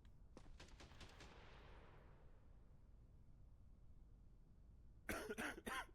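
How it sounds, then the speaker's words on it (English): A patient in the video game Quarantine Zone coughs in a quick burst of several harsh coughs, then after a quiet gap a second cluster of loud coughs follows. "Oh, you got a cough? You only just started that."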